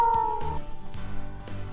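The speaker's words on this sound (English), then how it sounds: "when we hold the mouse down, I'm going to make a cat meow" A cartoonish cat meow plays as a sound effect in a Scratch programming project, a short meow followed by a couple more brief tonal bursts.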